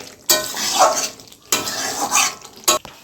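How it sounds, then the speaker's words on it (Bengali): A spoon scrapes through rui fish and potol curry in a pan, three distinct sweeping stirring strokes, close and fairly loud, with a soft sizzle between them and no talking. "এবার লাভিয়ে নিচ্ছি তরকারিটা।"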